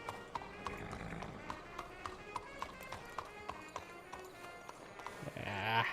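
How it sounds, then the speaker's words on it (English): A horse gallops in the Red Dead Redemption 2 video game, its hoofbeats an even, quick rhythm of thuds under a steady bed of game ambience, with a brief rise in noise at the very end. "I need a place to hitch this horse."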